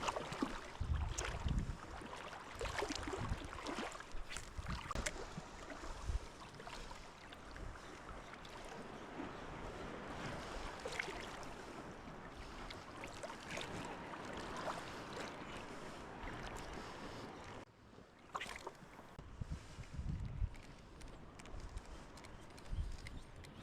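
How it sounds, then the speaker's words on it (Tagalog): Sea waves wash at a shoreline fishing spot during high tide, a broad continuous rushing and splashing with irregular surges and wind noise, fairly distant and soft throughout, with no talking. "Yun ang maganda ang alon no."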